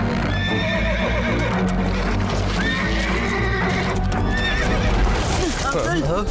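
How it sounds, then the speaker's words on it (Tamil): A wild horse neighs and whinnies loudly, with several rising and falling calls and some clip-clop of hooves, over dense background sound and voices. "இது காட்டுல வாழ்ற குதிரை."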